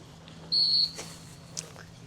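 A handler's sharp whistle blast directing a retriever during a field trial, one clear short tone followed by a fainter brief chirp, heard over quiet outdoor background.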